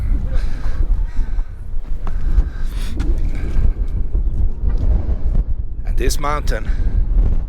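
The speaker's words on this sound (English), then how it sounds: "Sometimes the wind is picking up, like right now." Wind gusting across a mountain summit at 14,000 feet beside the highest railway in the United States, a steady broadband roar and buffeting over the microphone throughout, with someone talking briefly over it.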